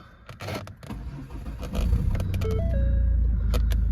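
Ford Focus 2.0 TDCi Zetec S diesel with a manual gearbox starting up, with clicks and rustling inside the car, then the engine cranks and settles into a loud, steady low idle rumble with a brief electronic chime.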